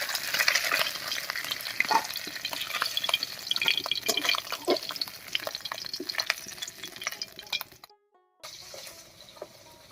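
Small fish frying in hot oil while greens are cooked, a steady close crackle and sizzle with stirring clatter, dropping briefly into near silence toward the end before the sizzling resumes.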